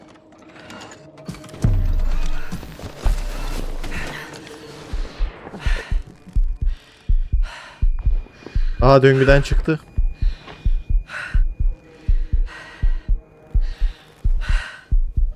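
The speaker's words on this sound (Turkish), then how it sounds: "bu kalp atış sesi gerçekten çok rahatsız edici" Heartbeat effect from the video game The Invincible pulses in a steady rhythm of low, deep throbs over a hum, with a brief gasp and some talk partway through.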